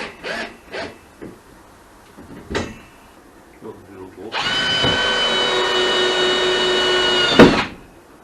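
A power drill whirs steadily for about three seconds near the mic during work on an enclosed trailer, after a few scattered knocks and clatters of handling tools.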